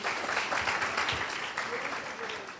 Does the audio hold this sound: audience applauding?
yes